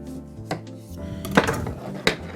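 A kitchen knife cuts a fresh lime in half on a board, giving a few sharp, close knocks and taps in near silence.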